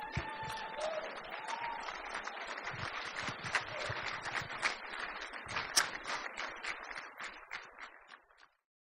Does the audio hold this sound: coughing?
no